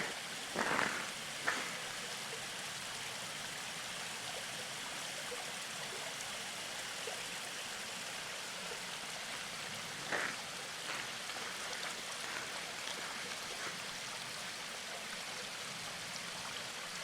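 Water flows through a frozen waterfall in a forest, making a steady close rushing and trickling wash with a few brief knocks and splashes, and no voices over it.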